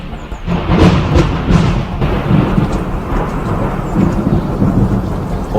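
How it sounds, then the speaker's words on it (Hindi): A loud, close thunder crack rumbles and rolls on against a bed of heavy rain, a continuous deep roar with no voices. "और तभी अचानक बहुत जोर से बिजली कड़की।"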